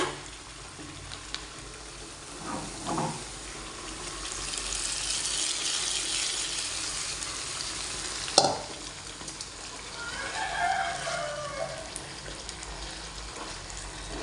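Hot fried coconut pieces poured into a Kerala-style beef curry, a steady loud sizzle and splashing hiss with a sharp knock partway through, then quieter bubbling and crackle, close by with no talking.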